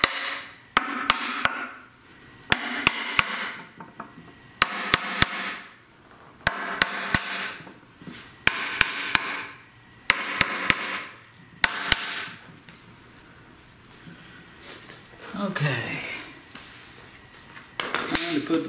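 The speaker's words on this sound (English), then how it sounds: "Take a little brass hammer, wherever that's at." Small brass hammer tapping a part down during a Chrysler/Dodge AAM 9.25 front differential rebuild, sharp metallic taps in quick bursts separated by short pauses and quieter handling noise.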